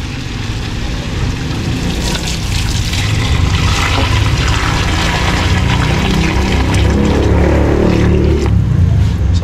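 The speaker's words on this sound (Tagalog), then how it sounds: "Ay, lagyan na po natin tubig." Hot water poured steadily into a large cooking pan, a continuous loud splashing gush lasting several seconds with no talking over it.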